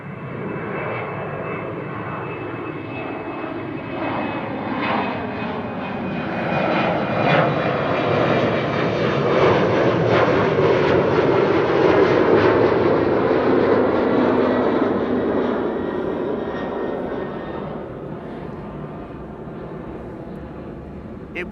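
An airliner departs Amsterdam Schiphol's Kaagbaan runway 24, producing a steady, broad jet roar that swells toward the middle and slowly fades, heard alone from a fixed spot with no talking.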